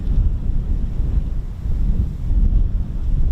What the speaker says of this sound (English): real sudden gushes of, gusts of wind